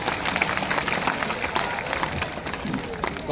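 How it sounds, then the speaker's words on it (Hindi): An audience at a public event gives a short burst of applause, a dense, even patter of clapping mixed with crowd murmur and voices, ending in a sudden louder thump. "तो अनिल सर के लिए एक बार तालियां"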